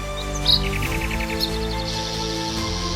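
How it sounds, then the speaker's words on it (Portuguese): Birds chirp and sing in short bright bursts over a steady background hum in the Amazon rainforest, with a few louder calls standing out near the start. "Enquanto pássaros cantam no alto e insetos dançam entre os raios de luz"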